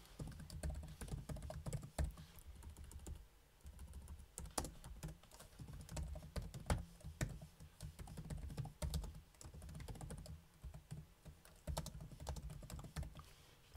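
Steady typing on a computer keyboard while a simple Hello World program is written for a homemade Arduino Nano computer with VGA output; dense, continuous clatter of keystrokes close up with no voices.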